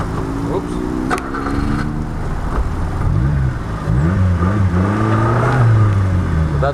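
A 1991 Subaru Sambar 4WD kei truck in first gear with four-wheel drive off, its engine revving and whining up and down as a wheel spins, loud and close, with a voice briefly over it.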